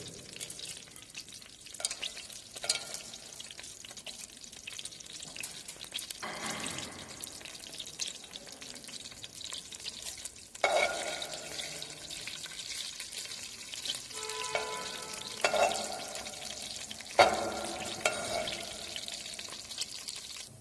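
Cumin seeds, fennel seeds and other whole spices crackle and sizzle softly in heated ghee, a low steady frying hiss broken by a few brief louder spatters and clinks.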